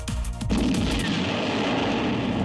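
A missile strikes its target in a loud explosion, a sharp close blast that swells into a heavy, sustained roaring rumble and then decays slowly, with no voices over it.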